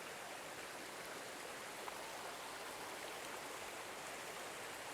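Steady broadband rush of creek water flowing in a wooded spot, continuous and even throughout with no voices.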